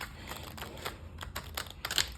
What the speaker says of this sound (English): So I'm going to attempt to shuffle it kind of this long way